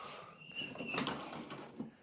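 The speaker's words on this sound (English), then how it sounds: "Now if I open the glass doors" Glass doors on an antique stacking display shelf swing open with a soft wooden creak, a light glassy rattle and a small tap near the end.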